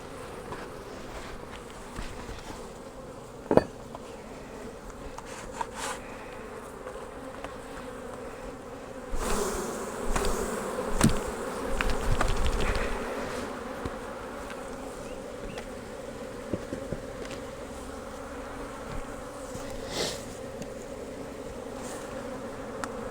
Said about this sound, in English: There's a lot of bees still in this box